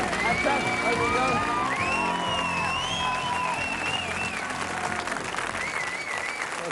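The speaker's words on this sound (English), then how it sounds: "give all a nice round of applause" A game show studio audience on Strike it Lucky breaks into loud sustained applause with cheers and whoops. Music plays underneath and voices can be heard in the crowd.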